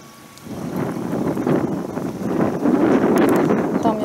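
Wind blows across an open vegetable garden plot with a steady, gusting rush that buffets the microphone, loud and continuous with no one talking.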